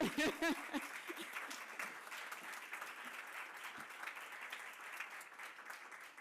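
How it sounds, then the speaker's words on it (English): A crowd at an alumni association awards ceremony breaks into a sustained round of applause, dense clapping filling the room and continuing steadily throughout, with a few louder claps at the start. "I think we need a round of applause for that."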